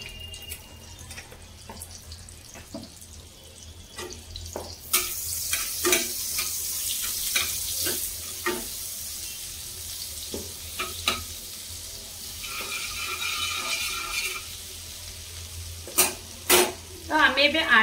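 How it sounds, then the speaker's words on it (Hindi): Butter and oil sizzling in a hot pan for homemade restaurant-style butter chicken, a bright continuous hiss punctuated by spoon scrapes and clinks, with a brief trickle of water near the middle. "गरम हो गलानी तो ऐड करिबा किछि बटर"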